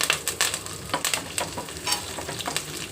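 Chana dal, garlic and curry leaves crackle and sizzle in hot oil, with bright popping bursts and a steady hiss up close, no voices.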